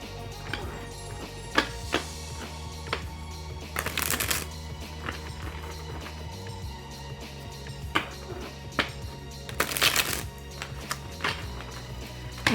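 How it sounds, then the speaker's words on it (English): A Witch's Garden tarot deck is shuffled by hand in a smooth, repeated rhythm of light riffling taps and card slides, with two louder, brief bursts of riffle standing out. "See how it shuffles. So it's a very smooth shuffle."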